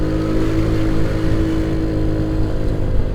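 On a night ride after heavy rain, a motorcycle engine revs hard and holds a loud, steady drone up close as the rider accelerates to overtake.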